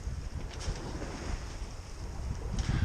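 Wind rushes steadily across a Dufour 3800 sailboat at sea, a low continuous buffeting roar against the microphone with faint water wash underneath, no voices.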